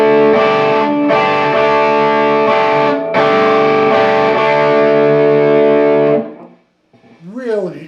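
Distorted electric guitar playing a riff with a suspended chord on the first and second strings: loud sustained chords with short rhythmic breaks, then ringing off into a brief gliding tail.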